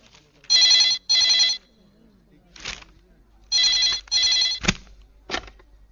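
An office telephone rings in two sets of paired electronic trills, loud and close, separated by short pauses, with brief speech between the rings.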